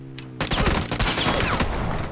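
Automatic gunfire in a video game during a drive-by, a sudden burst of rapid rattling shots that fires continuously and loudly, with no voices over it.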